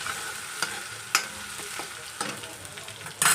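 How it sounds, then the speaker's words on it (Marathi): Asafoetida is sautéed into a sizzling onion-tomato tempering with ginger-garlic paste: a steady frying hiss broken by several distinct spatula scrapes and clacks against the pan, close and moderately loud. "आता यामध्ये आपण हिंग घालायचं आहे आणि थोडंसं परतून घ्यायचं आहे।"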